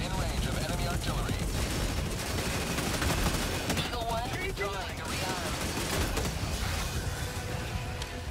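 Enemy artillery and gunfire in Helldivers 2 form a dense, continuous barrage of rapid shots and blasts, loud and unbroken, with a voice speaking briefly over the din.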